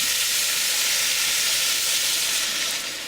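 Guinness beer poured into a hot pan of garlic and onions, deglazing it with a loud, steady sizzle and hiss that fills the whole stretch and eases slightly at the end.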